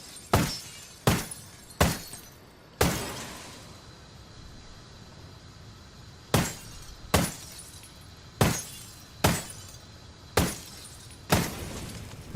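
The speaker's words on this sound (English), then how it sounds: "we're going to fire through the glass just like the other one" Sniper rifle shots crack through glass in Ghost Recon Wildlands, about a dozen sharp loud reports each followed by shattering and a decaying ring, spaced irregularly with a longer pause midway.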